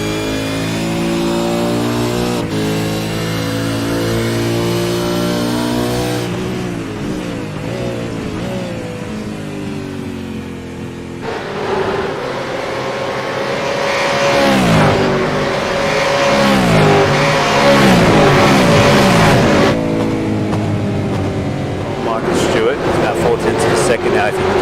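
Race cars circuit racing amid lapped traffic, engines roaring past with rising and falling revs and pass-by sweeps, loud and fairly close, under continuous commentator talk.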